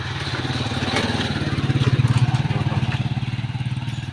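A motorized tricycle engine chugs nearby with a rapid, pulsing putter that swells louder toward the middle as it passes, then stays steady.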